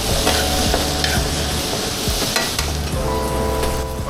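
Shrimp scampi with tomatoes, baby spinach and butter sizzles loudly in a hot pan while a utensil stirs through it, a steady close-up hiss broken by scraping strokes, with no talking.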